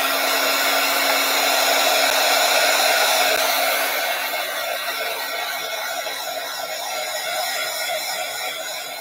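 Hair dryer running steadily to dry paint before stencilling, a continuous broadband whoosh with a faint hum, close and loud, easing slightly after a few seconds and with no talk over it.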